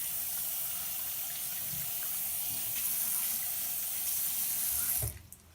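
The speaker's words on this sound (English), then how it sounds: "And you rinse them off very thoroughly." Meat rinsed under a running kitchen tap, a steady broadband splash of water into a sink that carries on for about five seconds, close up and alone, then stops abruptly.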